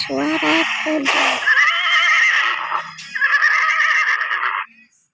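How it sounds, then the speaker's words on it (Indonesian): A horse neighing: a loud, close whinny with wavering pitch that rises, breaks and trails off over several seconds before stopping abruptly. "kuda, suara kuda."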